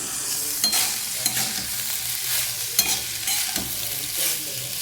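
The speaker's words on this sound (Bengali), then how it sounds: "এবার কী করবো দেখো, ডিমটা দিয়ে দিলাম এর মধ্যে" An egg fries in a pan with leftover rice for a breakfast dish of fried rice, a continuous sizzle broken by repeated scraping stirs from a spatula, close and fairly loud.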